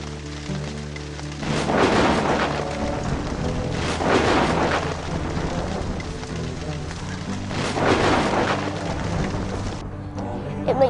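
Thunderstorm with lightning: heavy rain pours steadily while repeated rolling thunder booms swell and fade in roughly two-second waves, loud and close.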